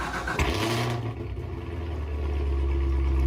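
A 2019 Chevrolet Corvette ZR1 in the Driving Empire video game starts up with a sharp crank burst, then settles into a loud, deep, steady idle rumble, with no voices.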